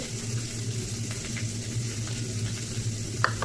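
Egg curry sizzles and fries in a pan while being stirred, giving a close, continuous crackle with soft scraping strokes and a brief clink near the end.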